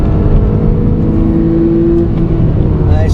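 Porsche 911 with a PDK gearbox pulling hard at full throttle out of a turn on a track, a loud steady engine drone with a rising whine, close and continuous throughout.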